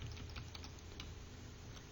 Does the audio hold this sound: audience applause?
no